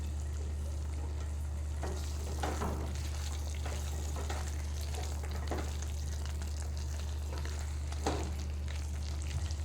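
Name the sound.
stirring coconut potato with dried oregano in a pan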